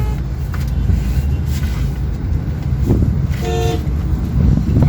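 A Toyota Innova Hycross car horn gives a short toot amid idling engine and road noise outdoors.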